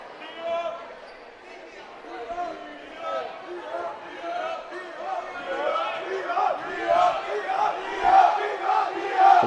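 A home crowd cheers at a Mineola vs Quitman high school basketball game, with loud, rising crowd noise and a commentator talking over it.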